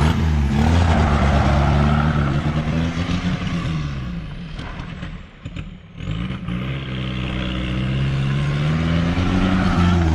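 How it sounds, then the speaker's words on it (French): A Golf 3 GT 110 engine, close by, is pushed to full throttle, revving loud and rising, then sputters and dips abruptly as it nearly stalls before picking back up to a steady roar. "elle a le problème quand on accélère à fond, qu'elle cale"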